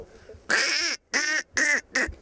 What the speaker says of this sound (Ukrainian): качка до мене сама підлітає